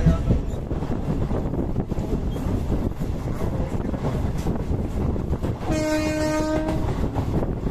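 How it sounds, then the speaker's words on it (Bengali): A train pulls out of a rural Bengal station, wheels and carriage rumble rolling steadily throughout with wind buffeting the microphone, and a loud horn blast sounds near the end. "আর আমাদের ট্রেন ছেড়ে দিল শিয়ারা বাজার"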